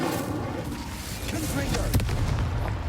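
The Incendio fire spell goes off in the video game Hogwarts Legacy with a deep, rumbling whoosh and a sharp burst near the end. The blast sounds loud over a busy game background while a voice speaks.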